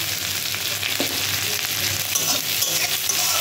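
Fried shrimp being stirred into a spice mixture in a pan, a steady sizzle with scraping and stirring clatter throughout, close and continuous with no talking.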